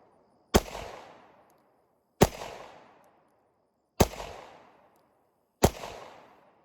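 Four sharp pistol shots from a Glock 43X firing 115-grain hollow-point rounds, spaced about two seconds apart, each a loud close crack with a short decaying tail and no talk between.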